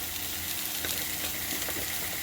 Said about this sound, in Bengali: পেঁয়াজ রসুন সবগুলোকে একটু একটু ভাজা ভাজা করে নিয়ে তাতে একটু নুন আর হলুদ দিয়ে দেবো